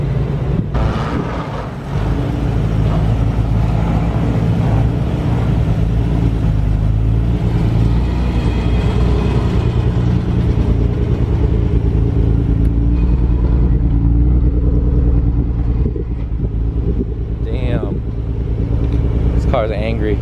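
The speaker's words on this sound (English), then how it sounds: "We've got a limited edition HKS exhaust here. You can hear it is nothing crazy loud. But it just sounds super clean." A car fitted with a limited edition HKS exhaust idles and revs with a clean, moderate engine note, a steady low rumble throughout with people talking over it.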